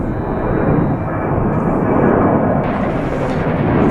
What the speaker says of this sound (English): So it looks like the big Dreamliner is lining up for takeoff.